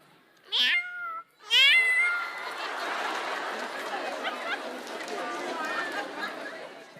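A young Kenyan boy imitates a cat, voicing two clear, drawn-out meows up close, then a lively crowd chatters and cheers around him.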